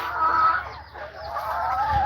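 Black Orpington hens and a rooster in a farmyard cluck loudly and continuously, close by, with no talk over them.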